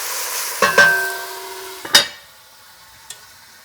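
Garlic and onion sizzle softly in a pan for a sauce, with a few sharp metallic clinks and knocks of utensils against the pan, close by and fading to a quiet hiss.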